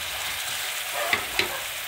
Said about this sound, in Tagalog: So, nagisa na tayo ng ating ground pork at yung itinabi natin na garlic